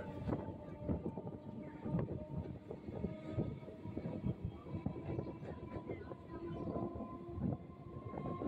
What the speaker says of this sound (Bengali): ট্রেন এখন উত্তর রাধানগর স্টেশন ছেড়ে বেরিয়ে যাচ্ছে